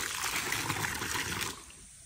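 Hot spring water trickles and splashes close by for a second and a half, then cuts off, leaving a soft background hiss.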